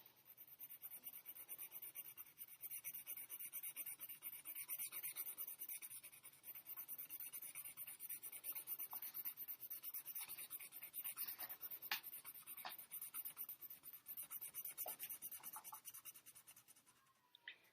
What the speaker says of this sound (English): I'm going to push as hard as I can make my pencil go without breaking my pencil lead or ripping my